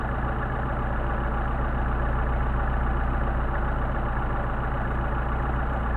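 A car engine with Solex carburetors idles at 750 RPM, a steady, even low rumble held close and unchanging throughout, with no other sounds.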